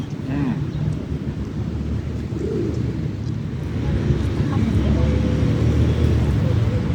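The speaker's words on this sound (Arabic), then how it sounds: "مجموعه حمام" A flock of pigeons gathers beside a lawn irrigation water wheel in a historic park garden, with a steady wash of running water and outdoor noise continuous throughout and only faint, scattered bird sounds.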